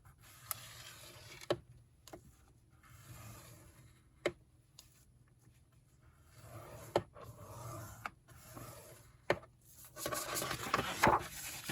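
Paper is scored to make a fold for a journal page. Faint, close rubbing and scraping is broken by a few soft taps, and the sound grows into a busier scratch at the end.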